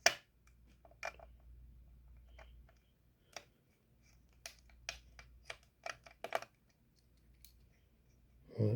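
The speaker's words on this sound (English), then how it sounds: "So you're going to use your star screwdriver still. Just undo the screws on the fan." A star screwdriver undoes the fan screws in an HP Envy 17-inch laptop, making faint, sparse small clicks and ticks spaced irregularly across a quiet background.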